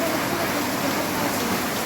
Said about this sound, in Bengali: কি সুন্দর বৃষ্টি হচ্ছে, বৃষ্টি হচ্ছে, সারা পৃথিবী ঠান্ডা হচ্ছে।